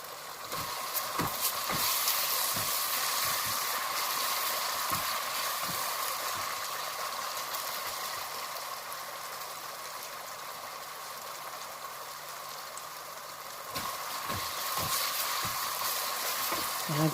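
Hotdogs frying in a pan for a homemade macaroni dish, a steady hiss of sizzling oil with scattered light clicks and taps of cookware, no voices.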